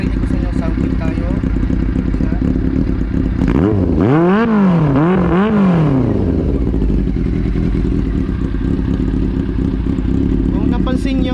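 A red Honda CB400 motorcycle idles with a steady, throaty exhaust burble, then is revved several times in quick rising-and-falling blips before settling back to idle, heard up close.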